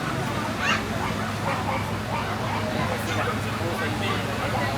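Golden Doodle puppies in a pet shop yip and whimper in short repeated bursts, heard under close conversation and background shop chatter.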